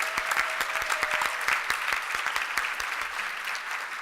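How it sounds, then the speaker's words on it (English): Round of applause from a seated audience at a mental health cultural competency summit, a dense steady wash of many hands clapping with sharper individual claps standing out, sustained and even throughout. "so we can give you a round of applause"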